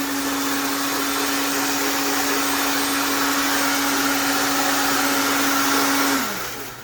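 A cold spark machine running at full power gives off a loud, steady, close whirring and hissing roar with a constant hum, which then winds down as it is switched off near the end.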